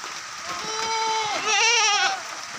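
Goats bleat up close on a mixed farm that raises goats for sale, one of them the big male of the pen: two loud, wavering cries, the second longer and shakier than the first.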